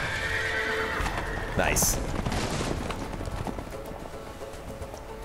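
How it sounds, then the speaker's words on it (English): Horses in the video game A Way Out whinny loudly and clip-clop as they gallop off, with crackling gunfire-like bursts in a busy game mix and a voice speaking over it. "the horses are escaping"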